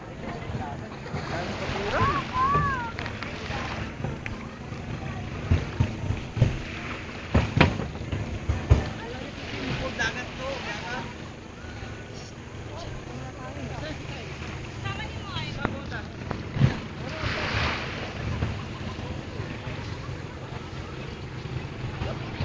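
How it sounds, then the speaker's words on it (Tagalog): Riding on a small boat at sea off the Philippine coast, the hull sloshes and thumps through waves amid buffeting wind noise, with people chattering throughout. "Nasakay na ulit kami na bangka."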